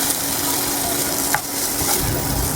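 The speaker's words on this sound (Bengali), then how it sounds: "মাংসটা প্রায় ভাজা ভাজা হয়ে এসছে" Chicken frying in a pan with onions and spices for karahi chicken pulao, a steady loud sizzle with scraping stirring strokes, no talking.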